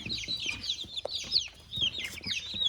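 Chickens cluck and chirp in a brooding pen, several birds making close, overlapping calls with soft rustling beneath.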